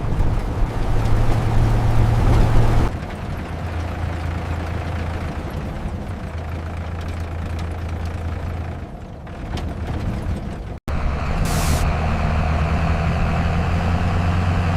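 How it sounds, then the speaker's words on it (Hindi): Low rumbling engines of army vehicles, a heavy steady drone that drops slightly, dips briefly, then returns loud and close, with no talk over it. "आवाज फौजी गाड़ियों की लग रही है।"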